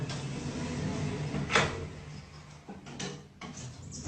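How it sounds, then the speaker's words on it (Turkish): An elevator door being opened by hand, with a few soft clunks and a sliding scrape against a faint background hum. "Kapıyı açıyoruz."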